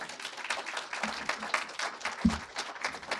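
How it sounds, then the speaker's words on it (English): A conference audience at a Black Heritage Month event gives a speaker a round of applause, moderately faint and sustained, with a few louder claps standing out. "A round of applause."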